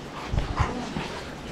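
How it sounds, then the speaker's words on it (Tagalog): A large dog, apparently about to be bathed, gives a few short, close whimpering yips and snuffles over a brief burst, loud and near, with no talk. "Ang pinakamalaking aso."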